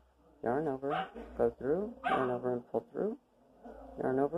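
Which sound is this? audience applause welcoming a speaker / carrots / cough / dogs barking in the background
dogs barking in the background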